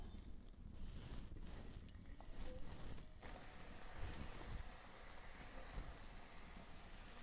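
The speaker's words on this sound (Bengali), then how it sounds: "তেল তো আগে থেকে গরম হয়ে গেছে। এবার এক এক করে" Potato roll samosas frying in hot oil: a dense, steady hiss and crackle of bubbling oil fills the clip throughout, close and even, with no talk over it.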